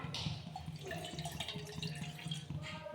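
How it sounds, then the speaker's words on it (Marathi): A cup of water runs and splashes into a pot on a gas stove, with a few dripping sounds and a faint hum in the background. "पातेल्यामध्ये तुम्ही गॅस चालू करा आणि पातेल्यामध्ये 1 कप पाणी घ्या"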